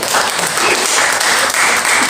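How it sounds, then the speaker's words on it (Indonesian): Dense, loud applause from a crowd at a prayer meeting in a Jakarta apartment, continuous clapping filling the whole stretch. "Tepuk tangan bagi kita."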